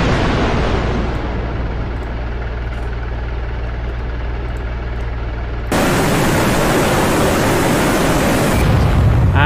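An SA-8 Osa surface-to-air missile launching in the DCS World combat game, a loud roaring rush that swells into a sustained wide blast of noise and continues to the end.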